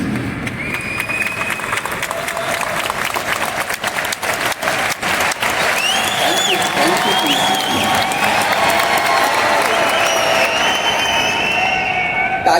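Large audience applauding at a health product presentation, a dense, sustained round of clapping mixed with scattered cheers and whistles, loud and continuous throughout with a few sharper bursts near the start.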